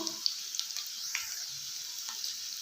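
Onions frying in a pan for a North Karnataka-style potato palya, giving a steady close hiss and sizzle with a few soft stirring clicks and no talking.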